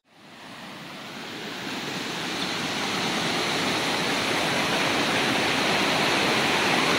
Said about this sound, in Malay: Inilah sungai yang mengalir tadi tu.